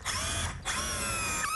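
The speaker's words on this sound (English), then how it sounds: "Turns your drill into a drywall gun and gives you just the proper countersink." A cordless drill fitted with a spring-loaded drywall screw attachment whines at high speed driving a screw into drywall, briefly dropping out before spinning up again, close and loud.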